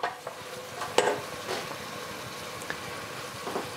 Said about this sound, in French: et on remue le tout